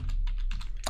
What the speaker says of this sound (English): I'm going to type in node